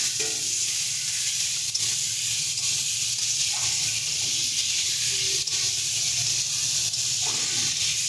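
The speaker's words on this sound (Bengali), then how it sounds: "এবার আমরা একটু জল দিয়ে দিচ্ছি। আগে থেকে কেটে রাখা টমেটোগুলো দিয়ে দেবো।" Water and chopped tomatoes go into a hot pan of bhola fish curry with brinjal, giving a loud, steady, close sizzle with a constant hiss and faint stirring.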